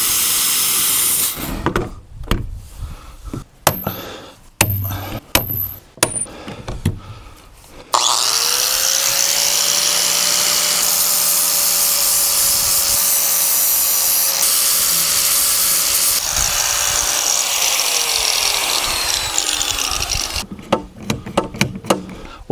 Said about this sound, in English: I'll snap them off with snippers and then just take a flap disc and grind them down